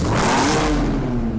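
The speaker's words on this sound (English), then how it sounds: "Nice engine sound." A BMW M3 engine revs in Need for Speed Hot Pursuit Remastered, a loud, close mid-pitched roar whose tone climbs then settles into a sustained drone, with no talking over it.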